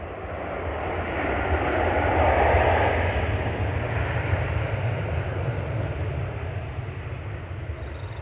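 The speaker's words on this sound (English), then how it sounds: "So here we are, 787-10, touching down from Jeddah" A Boeing 787-10 airliner arriving from Jeddah touches down at Manchester Airport, a broad steady roar of engines and rushing air heard from a distance, swelling and then holding level.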